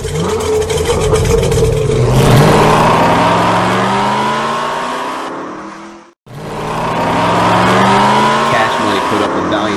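Pro street outlaw drag cars launch and race down a main street strip at Boomtown, loud roaring engines with rising revs and tire squeal, cutting out briefly before another pass roars again, with a commentator talking over it.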